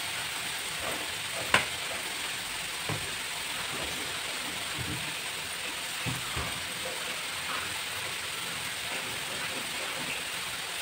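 Vegetables for a veg roll filling sautéing in a pan with salt, chili powder and soy sauce, a steady even sizzle with occasional faint scrapes and taps of stirring.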